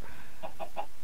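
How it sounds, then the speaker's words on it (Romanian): Chickens in the video game Minecraft give three short, quick clucks over a steady background hum, with no talking. "Hai să vedem ce au făcut găinile."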